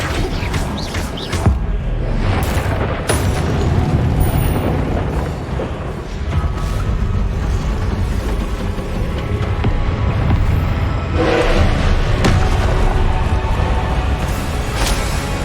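Confringo fire-spell blasts during combat in the wizarding game Hogwarts Legacy, a dense, loud stretch of booming impacts and crashing bursts that overlap continuously, with sharper cracks near the start and later on, no talk heard.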